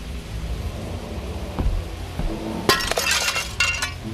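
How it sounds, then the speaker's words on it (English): Glass smashes inside a Titanic VR game: a sudden bright crash with tinkling shards, then a second shorter burst of breaking glass, heard alone over a steady background hum. "Smash the glass."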